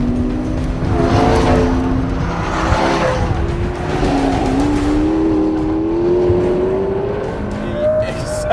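A McLaren P1 supercar of about 900 horsepower accelerating hard on a track, its engine note rising loud and close through the gears with brief tire squeal over a steady roar.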